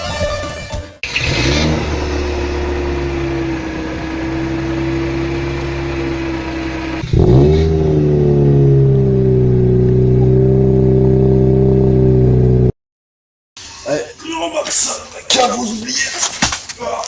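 Car engine revving through an aftermarket exhaust with a large muffler, a loud steady drone that steps up in pitch midway, then cuts to silence before clattering handling noises.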